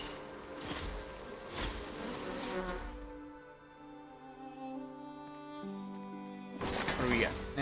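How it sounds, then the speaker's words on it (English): Bees buzz in the woods of a video game, a steady droning hum running beneath the whole stretch, faint and continuous, with brief bursts of louder background noise at the start and end. "I hear bees."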